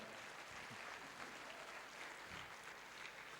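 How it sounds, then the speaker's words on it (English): Convention audience applauding steadily in a large hall, a dense, even wash of clapping sustained from start to finish at moderate level with no voices on top. "So give him a round of applause."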